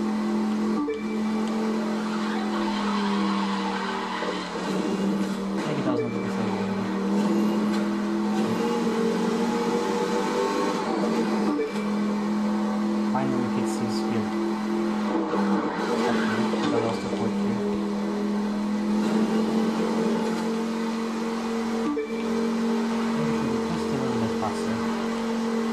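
Car engine in The Crew 2 racing game, held at steady acceleration through a live summit run, a continuous droning engine tone with brief tire squeals and skids, overlaid with game music and occasional talk.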